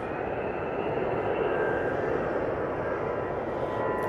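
EasyJet airliner taking off from runway 05 left at Manchester Airport, bound for Athens: a loud, steady roar of jet engines that holds constant throughout.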